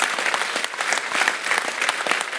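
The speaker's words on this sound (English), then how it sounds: "Give yourselves a round of applause for the tremendous" A convocation audience gives sustained applause, dense many-handed clapping filling the hall evenly from start to finish.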